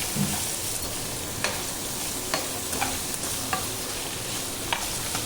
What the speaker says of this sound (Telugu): పోపు మొత్తం ముక్కలకి పట్టేలా కలుపుకోవాలి